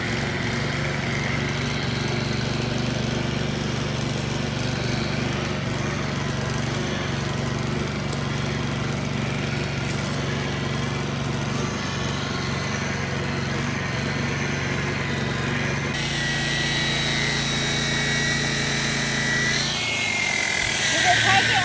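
A rotary polisher buffs the gel coat of a 1998 Regal boat with a steady, loud droning whir that runs throughout and shifts pitch near the end, while someone talks over it.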